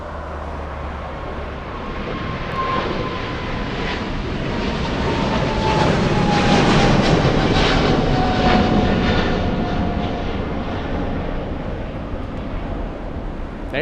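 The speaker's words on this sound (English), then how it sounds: "We have a freighter racing down the runway." A Boeing 777 freighter jet takes off at LAX, its engine roar swelling steadily from a distance, peaking loud and broad as it races close past, then slowly fading away without any voices.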